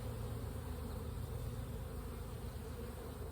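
Honeybees buzz steadily around a swarm hive while being moved to a permanent hive, forming a continuous, dense drone that holds at an even level with no talking.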